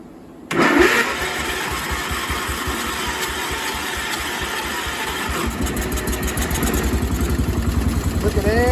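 A Cub Cadet 1250 lawn tractor that sat unused for 20 years cranks and catches after a silent start, then runs with a loud, rapid, rough chugging that grows stronger toward the end, with voices talking nearby.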